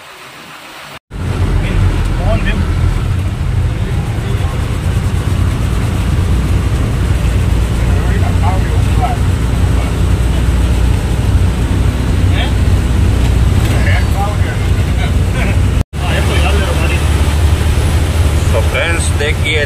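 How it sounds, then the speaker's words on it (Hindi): Strong wind and heavy rain of Cyclone Biparjoy in Kutch, heard from inside a moving car as a loud, constant roar and rush that drops out briefly twice. "जैसे जैसे आगे जा रहे हैं वैसे वैसे हवा तेज हो रही है, बारिश भी तेज हो रही है"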